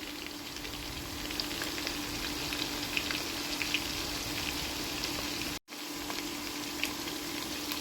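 Mutton with turmeric fries in a pan with an even, close crackling sizzle, steady throughout except for a momentary dropout near the end.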